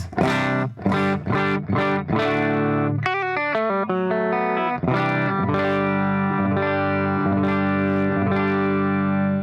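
Electric guitar played clean through a Guitar Slinger Products RB1011 MKII booster pedal into a Tubemeister amp, strummed chords ringing out, then quick picked notes and sustained chords, loud and close with no talking.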